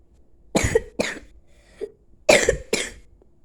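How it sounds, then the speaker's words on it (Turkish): A person coughs in a stuck-elevator comedy scene, with two sharp double coughs and a faint hack between them, close and loud, with no speech over them. "ne kadar da çok öksürüyorsun"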